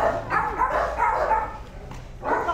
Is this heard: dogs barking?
yes